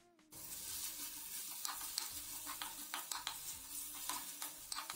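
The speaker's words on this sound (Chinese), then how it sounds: "放油，冷油放葱姜蒜，再加一勺豆瓣酱炒出红油" Chili bean paste stir-frying in oil with scallion, ginger and garlic in a farmhouse wok, a steady close sizzle broken by repeated scraping stirs of the spatula, with no talking.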